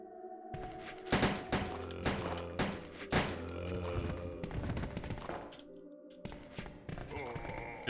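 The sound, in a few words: gunshots from the video game Resident Evil 2 (PS1)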